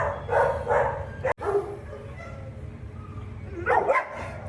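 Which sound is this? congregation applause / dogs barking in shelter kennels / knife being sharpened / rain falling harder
dogs barking in shelter kennels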